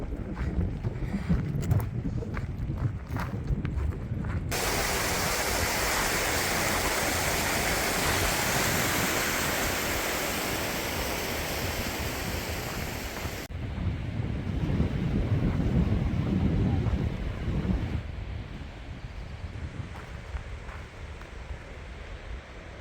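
A mountain waterfall beside a snowy Pacific Crest Trail route roars continuously and loudly up close, with gusts of wind buffeting the microphone; no one speaks.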